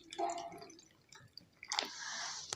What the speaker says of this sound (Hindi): अभी दोस्तों इसमें 1 गिलास पानी का ऐड कीजिए।